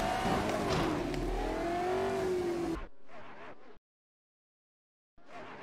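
A 1980s Formula 1 car engine in the Assetto Corsa racing game wails loudly at high revs for a few seconds, then cuts to short bursts of revving and scraping before falling silent and briefly returning.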